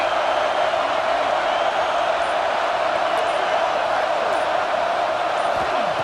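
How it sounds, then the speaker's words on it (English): Steady, loud roar of a stadium crowd in a football video game during a red zone defensive stand, a dense continuous wash of noise filling the whole stretch with no clear breaks. "here comes the noise. This crowd is trying to inspire this defense to make a big red zone stop."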